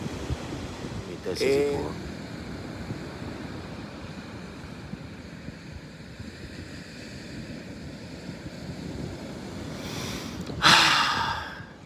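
Wind blowing outdoors beside a camper, a steady breathy rush buffeting the microphone with stronger gusts near the start and end, while someone speaks briefly.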